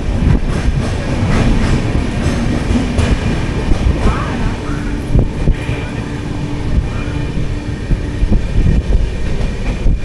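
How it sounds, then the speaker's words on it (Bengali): The Poorva Express on the Howrah to New Delhi route runs at speed on the tracks: a loud, continuous rumbling roar with rhythmic clatter heard from inside the moving train. "বর্ধমান থেকে ট্রেন ছেড়ে দিল, ট্রেন রানিংও হয়ে গেছে"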